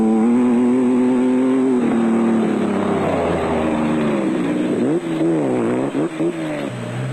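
A Nissan Hardbody off-road race truck in a desert rally: a loud, close engine drone that holds steady, then revs up and down in wavering surges toward the end.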